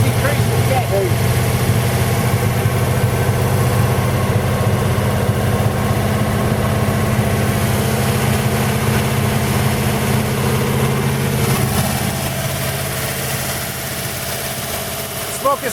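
A 1940 Buick straight-eight engine idles steadily just after its first start in 30 years, a loud, even low rumble running throughout and easing slightly toward the end.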